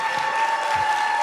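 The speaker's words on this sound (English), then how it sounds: "we clap all the way to the stage" An audience at a city youth poetry event applauds loudly and continuously, a dense wash of clapping with a steady tone underneath.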